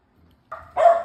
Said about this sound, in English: They bark like they hear something.